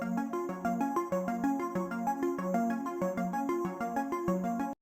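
A clean synth arpeggio from a Serum preset in an 80s pop and 70s disco style beat, steady repeating notes in a bright, even pattern, played alone and fairly quiet for about five seconds before stopping abruptly.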